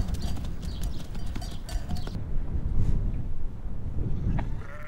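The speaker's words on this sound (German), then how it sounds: "Die Schafe müssen jedoch zunächst in den Stall getrieben werden." About forty ewes being driven into a barn for shearing on an Icelandic farm: a steady close shuffle and clatter of hooves, with scattered bleats over constant rustling and no talking.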